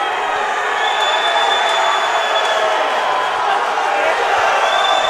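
A crowd at a Friday night fight event roars and cheers steadily after a bout, a loud sustained wash of voices that holds at the same level throughout.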